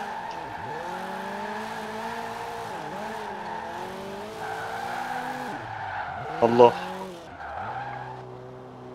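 A four-wheel-drive Toyota Celica ST205 in Forza Horizon 4 skids with long, wavering tire squeals over a droning engine, ending in a brief louder burst, while people talk over it.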